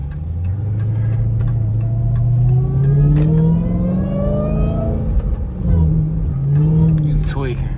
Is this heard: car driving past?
yes